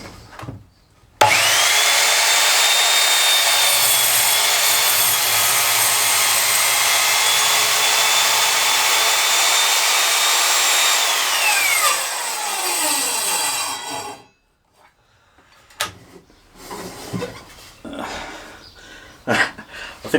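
An Evolution Rage 3S mitre saw runs loud and steady while cutting a mitre in wood, then its motor winds down and stops, leaving brief handling clatter.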